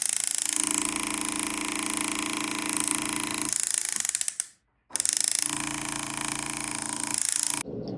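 A small jeweler's tool whirs and grinds steadily at close range while a diamond center stone is set into the main bezel of a ring, pausing once briefly before continuing.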